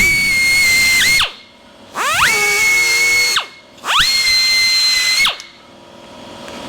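Milling machine cutting metal by climb milling, three loud whining cuts about a second long each with steady high tones, separated by short near-silent gaps.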